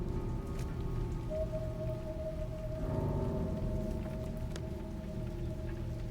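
Rain falls steadily in the video game Silent Hill 2 Remake, a dense continuous patter with a faint tonal hum running through it and no talking.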